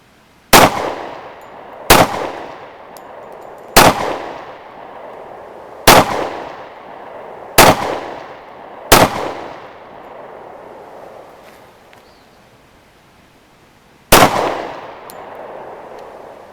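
Seven sharp, loud shots from a Smith & Wesson M&P Shield .45 ACP pistol at an outdoor range, fired at fairly even intervals about two seconds apart, then a pause before a final shot, each with a brief ringing decay.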